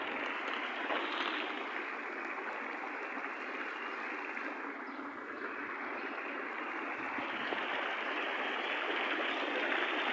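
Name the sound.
water sprinkling system in castle garden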